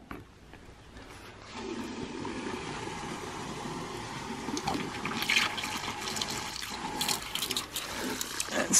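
Water rushes steadily through the zig-zag drive pipe of a low-profile ram pump, a broad continuous gushing that builds after the first couple of seconds and keeps churning with faint gurgles, with no voices over it.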